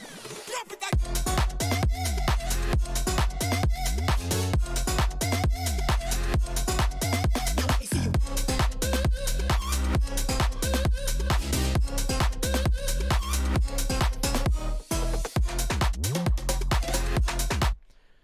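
A dense electronic music drop plays loudly and continuously, punchy rapid beats and stabbing synth hits driving a steady rhythm that cuts off abruptly at the end.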